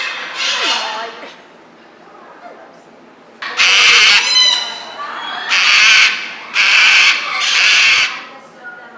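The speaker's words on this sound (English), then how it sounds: "So the reason the Tilly was so noisy a second ago" Noisy pet bird calling indoors: a few loud, harsh squawks in quick succession, near and bright, with a quieter call at the start and little else between.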